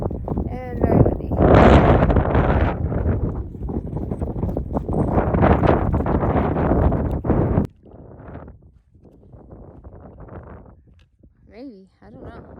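Strong, cold wind gusts buffet the microphone on a mountain stretch of the Appalachian Trail on a rainy day, loud and roaring at first, then easing to a lower rush, with a voice speaking throughout.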